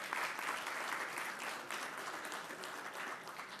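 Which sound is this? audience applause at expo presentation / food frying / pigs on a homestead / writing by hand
audience applause at expo presentation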